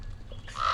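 A single bird calls nearby: a short, harsh squawk near the end of a brief stretch of quiet background.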